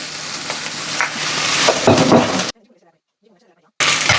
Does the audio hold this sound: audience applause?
no